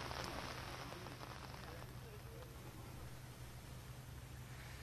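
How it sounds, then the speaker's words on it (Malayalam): Rain still falling near a railway track in Kottayam during heavy monsoon weather, a steady broadband patter and hiss that is fairly faint and even throughout, with no clear talk over it. "മഴയ്ക്ക് ചെറിയ ശമനം വന്നിട്ടുണ്ട്"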